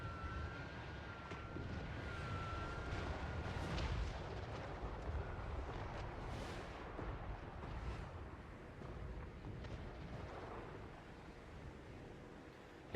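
Mortar fire thunders across a battle in the video game Total War: Warhammer 3, a faint, continuous rumble of distant booms and blasts layered under general battle din.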